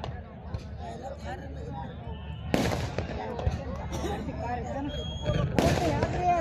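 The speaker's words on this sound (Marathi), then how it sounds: "फटाक्यांची आतषबाजी" Fireworks crackle steadily at a day-night kusti wrestling match in Ankali, Karnataka, with two loud broadband bursts standing out over continuous popping and a murmuring crowd.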